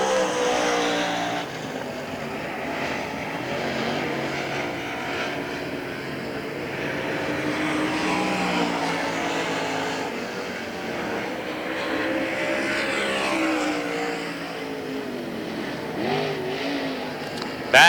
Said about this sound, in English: Back to the stripe, our latest trio of cars.